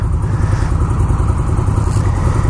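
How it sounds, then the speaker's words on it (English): A 2019 Indian Chieftain motorcycle, with an 1811cc air-cooled V-twin, idles up close with a loud, lumpy, rhythmic low-end throb and no talking. "we are going to test ride 2019 Indian Chieftain"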